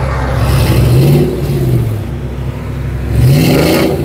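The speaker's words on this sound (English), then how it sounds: "do some revs really quick. I want to hear what it sounds like." A loud 5.3 V8 Chevy Silverado engine with long-tube headers idles with a rough, throaty exhaust and a slight exhaust leak, then revs up twice in quick succession, close by.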